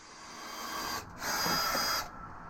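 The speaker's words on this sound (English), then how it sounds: "So I've marked my holes. Now I'm drilling them" A power drill bores holes through a piece of school bus flooring during a donor-bus transmission swap, giving two steady whirring bursts separated by a brief pause.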